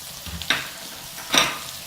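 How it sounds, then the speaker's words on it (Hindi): Peas and eggs with coriander being stirred as they fry in a pan: a low sizzle underneath with two distinct scraping strokes of the spatula, close and without speech. "धनिया ऐड करने के बाद हम थोड़ी देर के लिए हिलाएंगे।"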